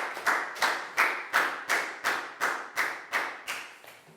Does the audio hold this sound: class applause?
yes